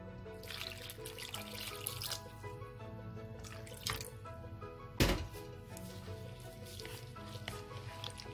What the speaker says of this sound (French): Je vais rajouter de l'eau.